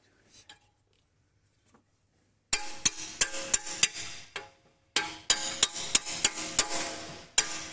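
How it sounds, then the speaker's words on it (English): Sharp metallic hammer strikes drive a bolt into an electric pallet truck during assembly, a steady run of blows, pausing briefly midway before another series of clanging hits, loud and close. "Insert the bolt and install it with a hammer."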